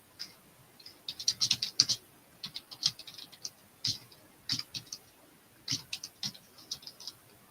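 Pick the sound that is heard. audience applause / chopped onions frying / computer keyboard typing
computer keyboard typing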